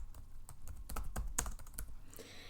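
Quick keystrokes on a computer keyboard while entering a record into a Microsoft Access form, a close, steady patter of clicks and taps with brief pauses between bursts.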